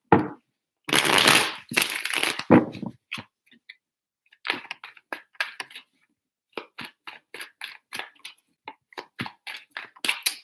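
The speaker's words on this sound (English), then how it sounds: "Three shuffles for Libra" Tarot cards being shuffled by hand, a loud crackling riffle at first, then a quieter stretch of separate rapid clicking and snapping bursts as the deck is cut and shuffled again.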